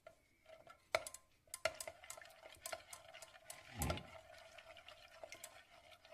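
Egg, lemon zest and squeezed lemon juice stirred together in a bowl for a custard dessert, a series of light clinking taps and scraping strokes close up, with one fuller swirl near the end, no talking.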